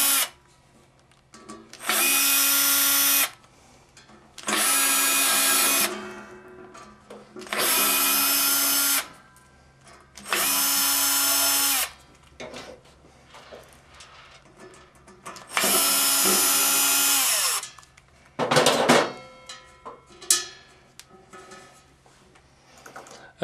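A power driver with a T15 bit removes the front cover screws during an MX2 torque upgrade, whirring loudly and close in five long bursts separated by short pauses, followed by a brief final burst and faint handling clicks.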